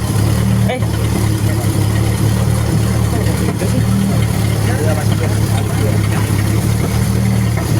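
A 4-cylinder car engine idles steadily during a conventional tune-up, a close, continuous low hum with a faint periodic pulse throughout.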